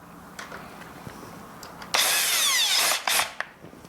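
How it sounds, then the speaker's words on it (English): A power drill with its torque set to zero drives small machine screws while a conical timer and knob are replaced, with a few short bursts before a loud, steady whirring run of about one second and a brief follow-up burst. "I have my drill torque set to 0."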